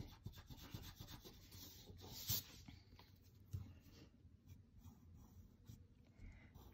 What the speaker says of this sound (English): And then you want to erase right in here.